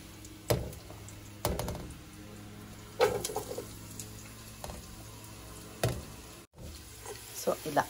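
Onions tipped into a pan with green chillies and frying, with soft sizzling under repeated sharp clinks and scrapes of stirring at close range.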